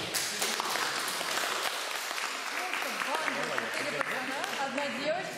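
A crowd at the final of a youth competition in Kazan gives steady, even applause for the finalists, with talking and cheering voices mixed into the clapping throughout.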